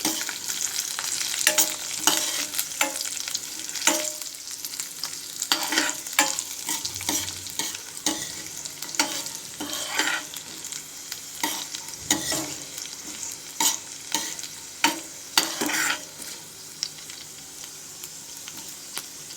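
Tender green chillies frying in a pan for upma made with ugguputi powder, a steady close sizzle broken by frequent scraping stirs and clinks of a spoon, with no talk.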